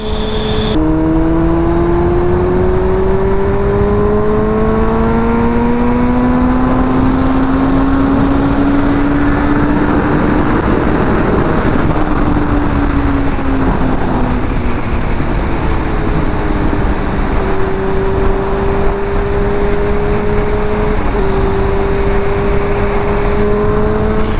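A car driving fast on the road, its engine a steady loud drone with gear changes as pitch rises and steps down, continuous road and wind roar throughout, no talking.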